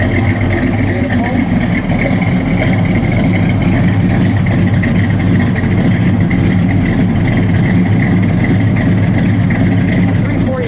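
A 340 V8 in a 1972 Dodge Demon idles loudly and steadily up close, a constant deep rumble with no revving, voices faintly audible beneath it.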